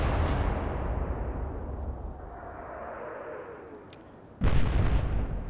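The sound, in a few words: naval gunfire in video game Atlantic Fleet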